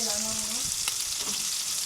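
Food frying in a pan, a steady bright sizzle and crackle that fills the clip, with a brief tonal voice-like sound near the start.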